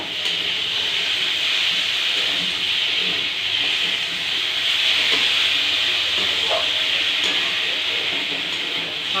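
Food frying in a pan with turmeric and salt for a Bengali bora curry gives a steady, loud sizzling hiss that runs unbroken throughout, with faint crackles and no talk.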